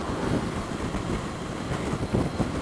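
Steady wind buffeting a rider on a 2019 Honda CB500X motorcycle at about 60 mph in fifth gear, a constant loud low rumbling roar with turbulent gusts and no talk.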